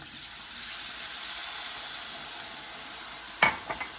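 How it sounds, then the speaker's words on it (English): Ginger and garlic frying in oil, a soft steady sizzle and hiss heard close, broken near the end by a couple of brief utensil clinks. "You can see that ginger and garlic is lightly browned in the oil"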